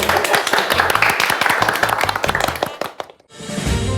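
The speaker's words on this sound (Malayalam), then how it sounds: "കൈയടി" An audience applauding at a poetry-writing competition prize announcement, a dense burst of clapping from many hands that fades out briefly before resuming, close and lively.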